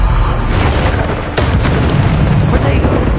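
The Bombarda explosion spell goes off in Hogwarts Legacy, loud booming blasts with a sharp burst near the middle and another toward the end, amid dense game noise.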